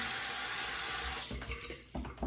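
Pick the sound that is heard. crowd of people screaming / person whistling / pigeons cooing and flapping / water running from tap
water running from tap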